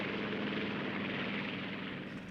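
A Grumman F6F Hellcat fighter's piston engine drones steadily in a continuous, fairly loud roar with a rough propeller texture, easing slightly toward the end.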